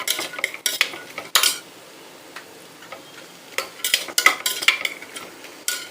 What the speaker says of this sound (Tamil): உருளைக்கிழங்கு, பச்சை பட்டாணி இதெல்லாம் வந்து நல்லா வதக்கணும்